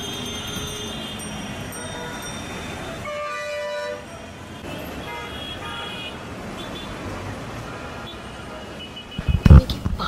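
A train rumbles past steadily over about ten seconds, with a horn-like tonal stretch around the middle and a burst of louder clatter near the end, all without speech.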